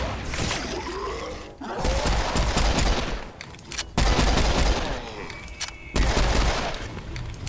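Serious Sam 4 gunfire comes in heavy, loud bursts of rapid shots separated by short breaks, with booming impacts and shattering debris among the volleys.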